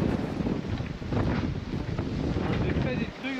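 Strong wind at sea during an upwind beat off Iceland in about 35 knots, with heavy roaring gusts buffeting the microphone over the rush of water along the hull, loud and continuous, with a voice partly buried beneath it.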